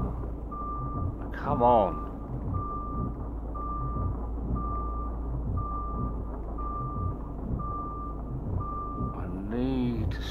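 Evenly spaced reversing beeps from a truck in the Truck Driver video game, a steady series over an engine rumble, with someone talking briefly at the start and end.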